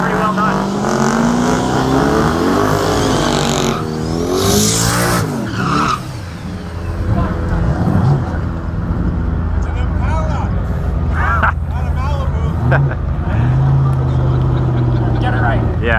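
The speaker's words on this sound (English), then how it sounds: "We got a Malibu on the spray with an LS motor, rear wheel drive conversion, the red car." A red Malibu race car with an LS motor and rear-wheel-drive conversion roars loudly at a no-prep drag race, engine note rising with squealing, skidding tires, while voices talk over it throughout.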